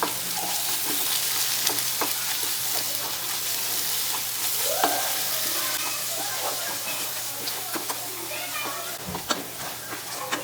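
Paneer masala being stirred and fried in a pan, a steady broadband sizzle under scraping spoon strokes and occasional clinks, continuous and close throughout.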